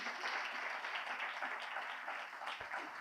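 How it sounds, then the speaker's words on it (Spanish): A church congregation applauds steadily during a Spanish-language service, a dense wash of clapping at moderate volume heard from a little distance. "Démosle un aplauso a Cristo en esta mañana por este lugar."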